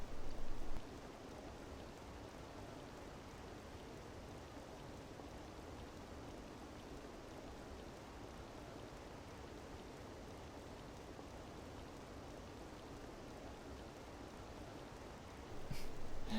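Steady, even rainfall from the video game Persona 5 hisses continuously as a dense, soft patter of drops. The level stays constant throughout, with brief louder bursts right at the start and end.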